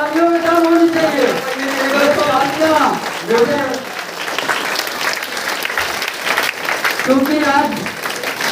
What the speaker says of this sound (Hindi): जोरदार तालियों में दम होनी चाहिए।